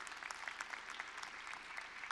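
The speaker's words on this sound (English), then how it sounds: "a round of applause for the gentleman" Applause from a conference audience for a gentleman on a CEO business panel, steady and moderately faint, with scattered sharper claps standing out.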